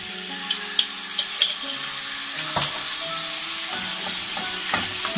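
Butter sizzling and frying in a pan for a cream chicken sauce, a steady crackling hiss with a few soft clinks and stirring taps, close and fairly quiet, with no talking.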